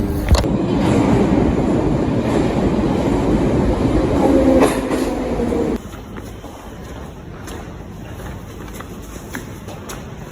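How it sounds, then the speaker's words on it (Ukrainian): Interior rumble of a Kyiv metro train riding toward Pochaina station, a loud steady roar of wheels and rails that abruptly drops to a quieter hum partway through, with no talk. "Ну от ми вже і у метро."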